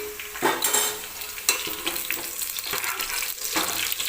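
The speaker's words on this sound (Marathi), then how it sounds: "कांदा सुद्धा मी छान असा गोल्डन रंगावरती तळून घेतलेला आहे" Onions fried golden in oil crackle steadily in a pan as they are scooped out, with repeated close scrapes and clinks over a continuous bright sizzle.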